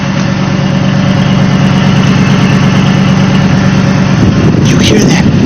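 A Cadillac DeVille idles with a steady, loud exhaust drone close by, a constant rumble filling the whole stretch with a brief brighter rattle near the end.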